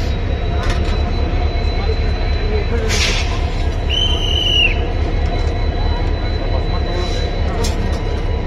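A Sabarimala special train at Hubli Junction, a steady loud rumble of rail cars on the platform with a short squeal of wheels partway through, while people talk nearby.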